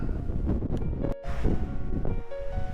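Strong wind buffets the microphone in loud, continuous gusts on a mountain trail near Montezuma Pass, with a brief lull partway through before the roaring resumes.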